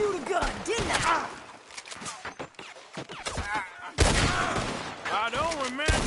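Gunfire in a Red Dead Redemption 2 shootout, sharp repeated gunshot cracks at irregular intervals mixed with game music and ambience, with characters speaking in between.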